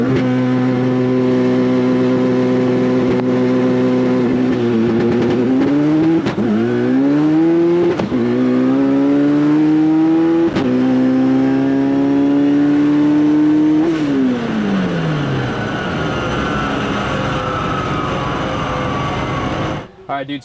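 A 1200 hp all-wheel-drive Honda Prelude accelerating hard from inside the cabin, its engine note loud and close, climbing through several rising gear pulls with brief shift breaks before easing off near the end.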